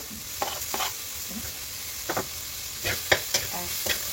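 A tomato fries in a pan over a quiet background sizzle. Several distinct scraping stir strokes come at irregular intervals, the loudest around the middle and toward the end.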